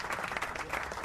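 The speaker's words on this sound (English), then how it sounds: "another round of applause for Dr. Narisi." Brief burst of audience applause after a presentation at a public policy dialogue on agricultural extension services, steady dense clapping throughout at moderate level.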